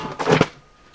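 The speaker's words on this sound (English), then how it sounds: "that noise you just heard was some of my radio books falling off the shelf" Books about radios tumble off a shelf in a workshop, a single short muffled clatter of a few thuds lasting under half a second before fading to quiet room tone.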